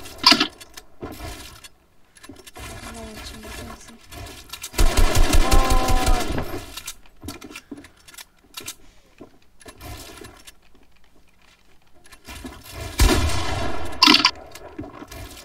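Video game gunfire, with rapid automatic bursts standing out, especially one long loud volley partway through and another near the end, amid clattering game sounds.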